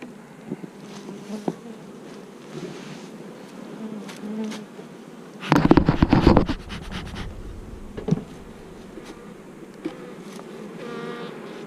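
Honeybees buzz around an open beehive during a beekeeping inspection, a steady close drone with a louder, denser swell of buzzing near the middle and single bees whirring past the microphone, with no talking.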